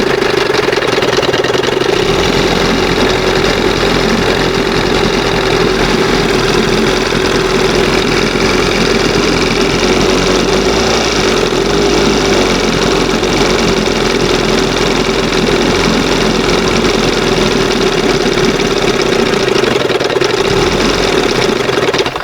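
A 1971 Johnson 20 HP outboard motor runs at a steady, loud, close-up idle, a continuous buzzing hum with a rough, slightly knocking edge and no talk over it.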